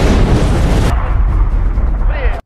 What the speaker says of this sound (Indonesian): Setelah mendengar suara ledakan